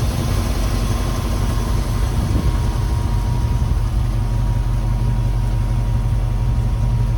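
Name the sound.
Ford F100 truck engine running after cold start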